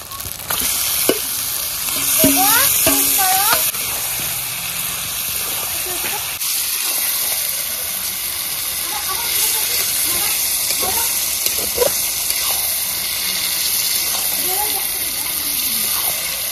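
Marinated chicken hitting a pan of fried ginger, garlic, cumin and dry red chili paste, a loud dense sizzle and hiss that stays steady throughout, with a brief voice heard faintly early on.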